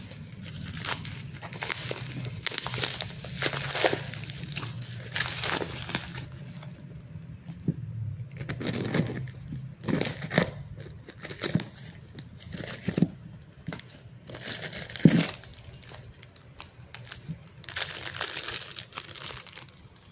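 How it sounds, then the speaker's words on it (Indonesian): Crinkling and tearing of packaging while unboxing a small 12-volt aquarium fish tank water pump bought as a replacement for a smart fountain espresso water dispenser, in close, irregular bursts of rustling. "Sekarang ayo kita unboxing dulu."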